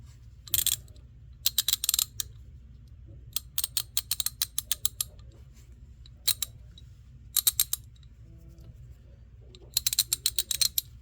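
A Taiwan-made K-Tool Professional 3/8-inch ratchet clicks in quick bursts of dry, close ratcheting ticks, repeated several times with short pauses over faint background hum.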